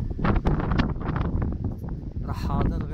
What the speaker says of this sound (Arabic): كاين الريح، كاين صوت الأشجار